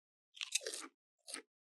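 Potato chips crunched and chewed close up, two bursts of dry crackling, a longer one followed by a short second bite after a brief silence.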